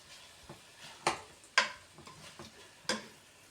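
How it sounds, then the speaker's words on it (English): Meat for chilli con carne browns in a pan, a faint sizzle under a handful of sharp, separate utensil taps and scrapes against the pan. "I wait for my meat to brown."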